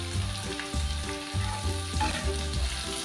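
Onions frying in a pan while a wheat adai batter dish is being made, a steady close sizzle with repeated stirring scrapes in a loose rhythm, heard alone without talk.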